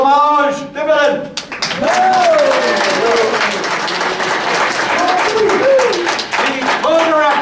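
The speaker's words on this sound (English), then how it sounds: "If you care to applaud the director, Vérité Fromage Dividend." An audience applauds the director after a melodrama at a small theater. The clapping is loud and sustained, with voices speaking over it.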